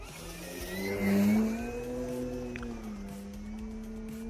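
A Hangar 9 Pawnee Brave RC plane with a 2.21 m wingspan and 6S power flies past with its motor at low throttle, giving a steady whirring drone that swells briefly as it passes close, then settles back to an even hum.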